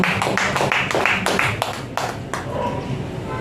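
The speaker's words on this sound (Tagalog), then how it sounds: "mahina pa rin ang palakpak sa Panginoon" A congregation claps at a church service, a loose, uneven run of claps with sharp individual hits rising and fading over a few seconds, fairly close, with a little talk underneath.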